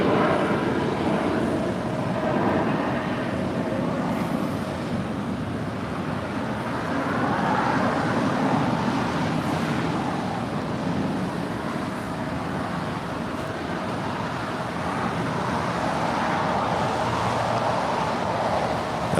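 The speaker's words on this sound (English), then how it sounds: "That is Southwest Airlines Flight 2836 coming in from Denver, Colorado. It's a 737-800." A Southwest Airlines Boeing 737-800 jet arriving at LAX, a broad steady roar of engine noise swelling and easing over a long stretch, distant and continuous with airport traffic ambience.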